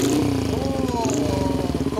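A custom 1979 Honda Shaly motorcycle with an 88cc engine and one-off muffler runs close by, its putter rising in quick revs and settling back, with a steady mechanical rattle underneath.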